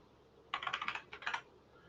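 Rapid typing on a computer keyboard in two short bursts of clustered keystrokes, close and clear with no voices.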